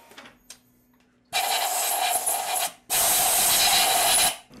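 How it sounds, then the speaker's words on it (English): Small ball nose burr grinding a tiny chamfer on a pre-drilled hole in stainless steel, two sustained loud bursts of high rasping whine with a short pause between, after a quiet start. "I'm using a small ball nose burr to put a tiny chamfer on the pre-drilled hole"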